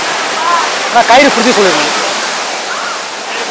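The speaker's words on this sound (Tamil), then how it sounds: "தண்ணி வேகமாக இருக்கு." Fast-flowing river water rushes over rocks at Hogenakkal as a steady, loud, close roar, with someone speaking briefly over it.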